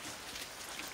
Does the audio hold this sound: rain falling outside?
yes